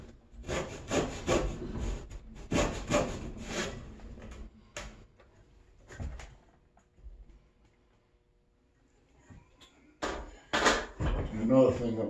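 Hand sawing of timber for a timber-framed table base, bursts of rhythmic rasping strokes, close and loud, separated by quieter pauses with handling noise, then a final run of sawing.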